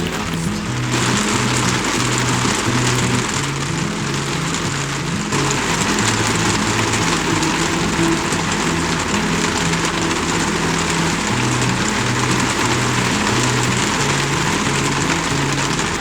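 Steady rain drums on a motorhome at a campsite, a dense unbroken hiss that stays loud throughout, with a low rumbling hum running underneath and no voices.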